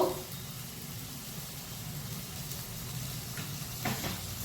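Spices with salt and turmeric sautéing in a pan for spinach curry, a soft low sizzle with a gentle bubbling rumble and a couple of faint stirring scrapes near the end.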